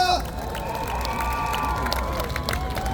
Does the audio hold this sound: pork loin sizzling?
no